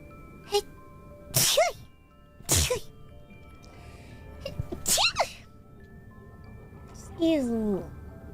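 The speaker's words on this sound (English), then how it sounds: "Oh, I'm gonna sneeze." Several sharp, explosive sneezes from different people burst out one after another, loud and close, with short vocal sounds and quieter stretches between them.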